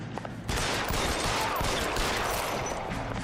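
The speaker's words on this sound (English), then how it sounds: "Listen, just get behind cover, let me shoot them." Dense gunfire in a 1940s Los Angeles crime game, a thick continuous barrage of overlapping shots that starts abruptly and holds steady at moderate level, with no talk.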